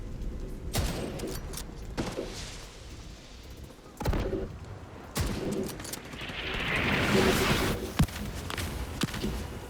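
Mortar blasts and scattered gunfire in The Division 2 video game, set in New York, a run of irregular thumps and sharp cracks of varying loudness with a swelling rumble near the end.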